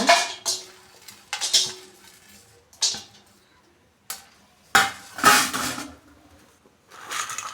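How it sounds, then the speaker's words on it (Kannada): Whole spices, pineapple flower (star anise) and turmeric are fried in a pan at home for biryani masala powder, heard as intermittent scraping and rattling stirs with bursts of sizzle separated by near-silent pauses. "ಎಲ್ಲನೂ ಕೂಡ ಹಾಕ್ಕೊಂಡು ನಾನು ಫ್ರೈ ಮಾಡ್ಕೊತಾ ಇದ್ದೀನಿ"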